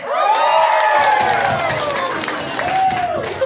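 A crowd at a religious gathering cheers and shouts with scattered clapping mixed in, loud and sustained throughout as voices rise over the noise.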